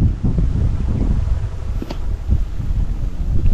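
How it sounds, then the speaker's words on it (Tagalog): Steady gusting wind buffets the microphone outdoors during freshwater fishing for rohu, a loud continuous low rumble with no talking. "Ayaw kasing kumalma ng hangin eh."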